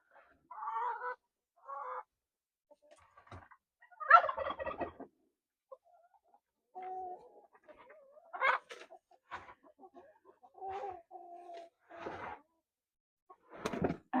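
Turkeys gobble in a series of separate bursts, some overlapping calls and honk-like notes spread across the clip, moderately close with quiet gaps between them, no talk.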